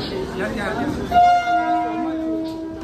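A Mumbai local train horn sounds with steady tones over rumbling rail noise and station chatter, as the commuter train pulls in nearby.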